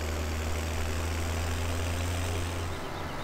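A farm vehicle in Landwirtschafts-Simulator 17 drives toward the composter, its engine humming in a steady low idle-like drone, continuous and fairly loud, with no talk.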